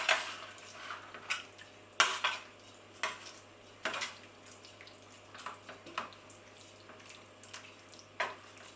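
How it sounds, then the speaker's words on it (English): A spoon stirs roasted tomatoes into butternut squash in a pan for lasagne, making scattered soft scrapes and occasional sharper knocks against the pan, with quiet gaps between strokes and no talking. "And then I'm going to stir the tomatoes into the butternut squash."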